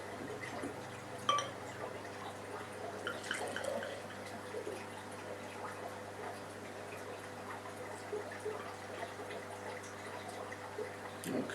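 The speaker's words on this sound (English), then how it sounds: "it's definitely carbonated though, that is bubbling" Carbonated homebrew Brewdog Hazy Jane clone beer fizzes and bubbles softly, with faint drips and crackling fizz spread steadily across the whole span at low volume.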